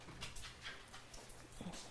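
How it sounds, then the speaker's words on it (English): Dogs in a kitchen whimpering softly and panting, faint high whines over a steady breathy background, fairly quiet throughout. "Why are these dogs in here?"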